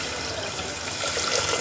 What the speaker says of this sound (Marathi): आता मी हे पाणी टाकून घेते.